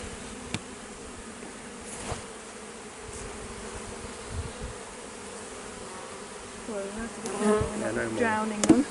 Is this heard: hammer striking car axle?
no